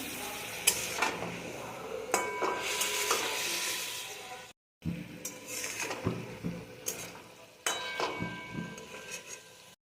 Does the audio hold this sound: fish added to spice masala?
yes